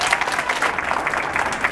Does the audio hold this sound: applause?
yes